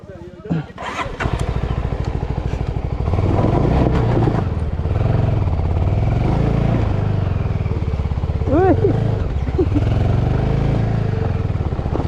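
A motorcycle engine revs loudly and steadily close by, its pitch rising and falling in repeated waves as gears are shifted, while people talk over it.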